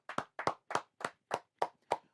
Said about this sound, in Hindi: उज्जवल राज के लिए तालियां हो जाएं